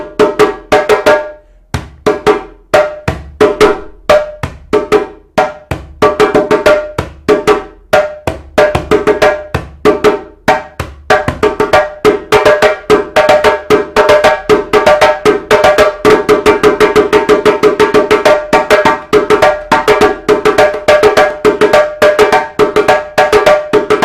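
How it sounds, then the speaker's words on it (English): Djembe drum played solo in a piece called Cuckoo, a steady stream of sharp, bright hand strikes mixing slaps and tones, close and loud, with a brief pause early on before the rhythm settles into a dense, driving pattern. "I'll play a piece called Cuckoo on the djembe."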